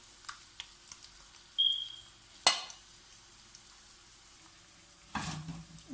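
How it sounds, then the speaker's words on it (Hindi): Potato pieces frying in desi ghee in a pan, turned and spread out, give sparse clicks and a couple of louder scraping stir bursts over a faint sizzle, with no voices. "ये आलू जब मैंने फ्राई करने के लिए रखे थे उसको मैं दोनों तरफ से फ्राई कर लिया।"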